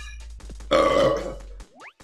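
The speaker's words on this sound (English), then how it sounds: "Sorry, I had the burp." One long, close-up human burp lasts about a second during a Bomberman Hero gaming session, over a low, steady background hum.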